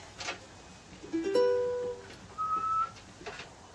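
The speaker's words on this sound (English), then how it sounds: "There's a lot of whistling coming up." A few short whistled notes, a low wavering tone followed by a brief higher note, fairly quiet against faint background noise.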